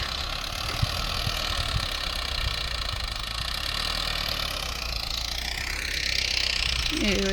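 A tractor engine drones steadily nearby in the open while ploughing a field, a constant low rumble with some wind noise.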